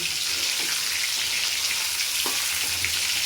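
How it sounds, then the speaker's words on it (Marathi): Eggplant stir-fried in oil in a pan, giving a steady dense sizzle like light rain, with a couple of faint stirring knocks underneath. "आता वांगे मस्त खालीवर खालीवर परतून घ्यायचे"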